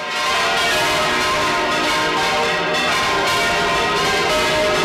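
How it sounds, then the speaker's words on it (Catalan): The musically tuned church bells of Albaida ring loudly and continuously on the town's main feast day, with overlapping peals and a sustained ringing wash and no pauses. "tenim la sort de tindre un conjunt de campanes musicalment afinades"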